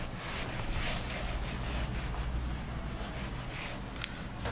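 Writing is rubbed off a classroom board with steady back-and-forth strokes, a continuous scratchy swishing that stays close and fairly loud throughout, with no voice over it.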